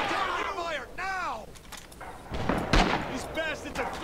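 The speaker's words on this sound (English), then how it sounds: "I'm gonna throw a nade out this way." A single grenade blast in Red Orchestra 2, on the Betio map, lands as one sharp, booming burst about two thirds of the way in, between stretches of someone talking.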